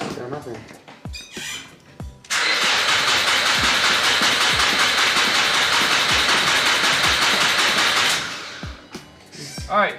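A Nissan Sentra's starter cranks for several seconds with a loud, steady whir, but the engine never catches; softer mechanical noises come before and after.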